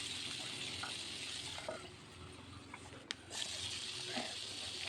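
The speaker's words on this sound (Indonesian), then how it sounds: "Dan ini terakhir aku goreng tempe." Tempe frying in a pan with tomato and shallot added for sambal, a steady close sizzle and crackle running throughout with a brief sharper pop, and no talk.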